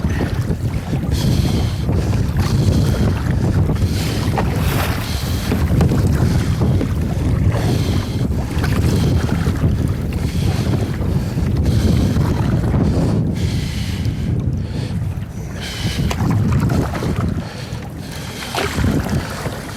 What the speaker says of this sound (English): it's quite comfortable using the double paddle